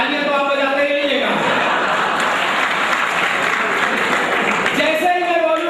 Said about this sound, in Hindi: इसलिए मेरी बातें आपको समझ में आए या न आए, तालियां तो आप बजाते ही रहिएगा।